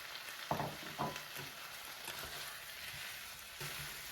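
Quiet, steady sizzling of meat and peppers frying in a pot, with a few soft clinks and stirring sounds near the start.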